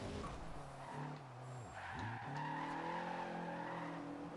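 A VW Corrado drifting in Forza Horizon 2, with tires squealing and skidding over a revving engine whose pitch dips and climbs as the car slides, continuous and fairly close.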